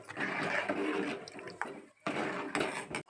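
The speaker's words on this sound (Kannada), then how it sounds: "ಅದಕ್ಕೆ ಒಂದು ಸ್ವಲ್ಪ ನೀರು ಹಾಕ್ಕೊತೀನಿ ನಾನು" Water pours into a cooking pot of simmering jowar broken-grain porridge (ambali) in a home kitchen, arriving in two splashing, gurgling bursts separated by a brief pause, fairly close but soft.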